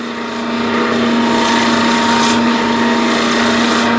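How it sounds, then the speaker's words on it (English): Wood lathe turning with the tool cutting on top of the spindle, the tool rest set high; a steady, loud whirring drone with a scraping, rasping edge continues through the whole stretch. "So we're now cutting on top of the spindle."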